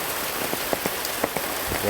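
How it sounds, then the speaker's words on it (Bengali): Steady rain falls close by in a village, with individual drops pattering and tapping sharply on a hard surface through a constant wet hiss. "দেখুন বৃষ্টির ঝিমঝিমের শব্দ, টুকটুক শব্দ বৃষ্টির"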